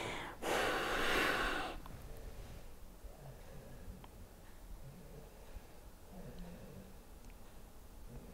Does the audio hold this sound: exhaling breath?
yes